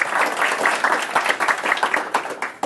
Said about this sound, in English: Have a round of applause for Ms. Christine